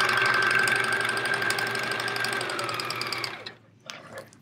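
A sewing machine stitches scrap fabric pieces together for a chevron quilt, running as a steady mechanical whir for about three and a half seconds before stopping, followed by a few faint handling sounds.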